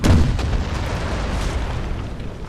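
Artillery fire in Napoleon: Total War, a loud low boom at the start, then a dense rumbling wash of distant cannon fire and battle noise sustained throughout.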